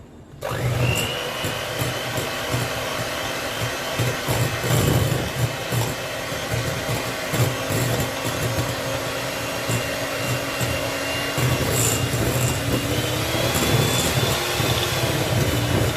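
An electric mixer whirs continuously and loud through butter and sugar for lemon ginger cookies, with a high steady motor whine and rattling beaters that shift slightly in pitch partway through, close by with no talking.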